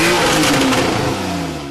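A Porsche 911 engine with active sport exhaust roars loudly at high revs in a short, close, sustained blast that eases slightly as it ends.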